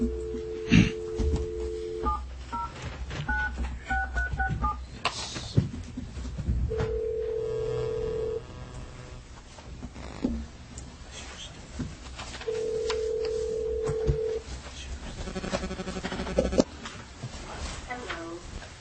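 A speakerphone dials out during a meeting, with a string of short touch-tone beeps and longer ringback tones at a steady pace, interspersed with people talking in the room.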